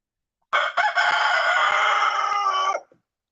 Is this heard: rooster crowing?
yes